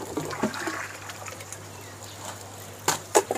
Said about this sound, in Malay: Jadi kita keluarkan air sini.